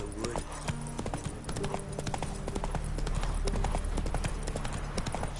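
Roach the horse's hooves clip-clop steadily in The Witcher video game, a continuous rhythmic trot of hoofbeats close by over a dense background of game ambience and battle din.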